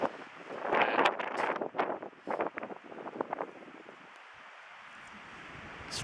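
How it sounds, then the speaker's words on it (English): Strong wind gusts batter the microphone during a snowshoe outing at Mills Lake in snowy weather. The buffeting is loud and roaring at first, then eases into a steadier, softer rush of wind noise. "It's pretty windy and snowy conditions."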